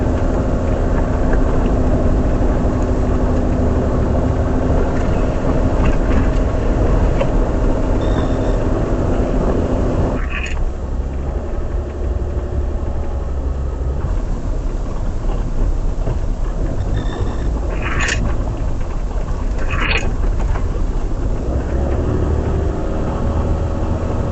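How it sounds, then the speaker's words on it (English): A car drives on the road, heard from inside through a dash cam as a loud, steady rumble of road and engine noise. It carries on unbroken, with a slight change partway through and no one talking. "Right, let's take this on a bit of a drive."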